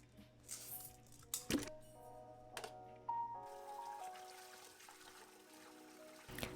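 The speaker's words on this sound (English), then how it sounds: "After rinsing the rice with water a few times" Water pours and trickles over rice in a bowl during kitchen prep for a Japanese meal, with squishy swishing and a few light clinks in short bursts, close and fairly quiet.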